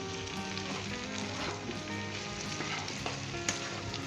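Potato bhujia fries in a pan with a constant crackling sizzle, and scraping stir strokes run through it, close and steady with no speech.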